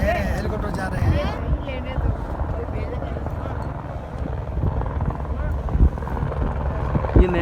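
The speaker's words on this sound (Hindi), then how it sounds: "फ्लाइट सब जा रहे हैं, हेलीकॉप्टर जा रहे हैं।" A helicopter flies overhead on a Kailash Mansarovar pilgrimage route, a loud, steady low rotor rumble with wind buffeting that holds throughout while voices talk over it.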